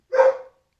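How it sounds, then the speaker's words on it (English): A single short dog bark rings out nearby, loud and clear, from one of the household dogs set off by the doorbell, then stops. "So the dogs are going to bark until they go away."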